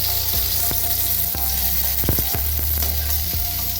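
Bay leaf and cardamom spluttering in hot oil as a tempering for doi potol, a loud close sizzle broken by several sharp pops and crackles.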